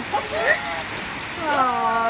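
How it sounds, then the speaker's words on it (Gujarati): Steady heavy rain hisses throughout while voices talk over it, fairly close. "જો કેટલા બધા વરસાદ પડે છે"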